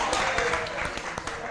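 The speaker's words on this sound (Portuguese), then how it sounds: "palmas!" Studio audience on a television programme breaking into a short burst of clapping, brisk and fairly close, lasting under two seconds.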